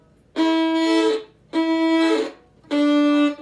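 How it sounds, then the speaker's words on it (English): Three sustained bowed violin notes, each stopped with the bow dug in too hard on the string so the tone breaks into a short scratchy crunch at its end; close and loud, with no talk. "try not to dig in really hard because you'll get a crunch sound like this"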